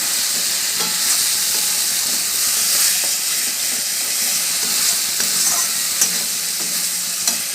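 Masala with chopped tomato frying loudly in a pan, a dense continuous sizzle with occasional stirring scrapes, steady and close throughout.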